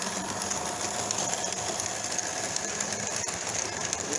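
A Lionel Amtrak MPC 027 diesel model train with sound runs with a steady mechanical whirr and hum of its motor and electronic engine sound, constant and close.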